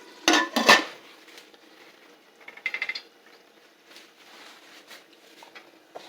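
Boiled spaghetti noodles being put onto a plate, with two sharp close clatters of utensil on dish at the start, then softer scrapes and light taps against the plate, no talk.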